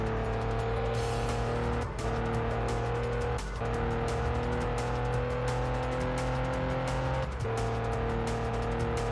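Pagani Zonda supercar in Test Drive Unlimited on PS2, a steady loud engine drone with layered harmonics holding constant speed, briefly dipping a few times as it drives on without pause.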